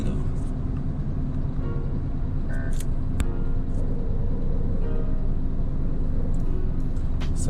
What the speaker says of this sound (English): You can hear that rumbling sound.